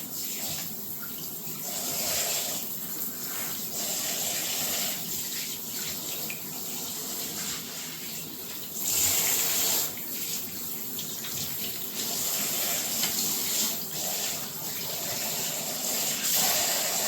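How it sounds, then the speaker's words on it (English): Cold water runs steadily from a tap into a sink while a doll is washed, a continuous close splashing rush lasting the whole stretch with small shifts as the stream hits the doll and the basin. "I'm using cold water. Don't use hot water."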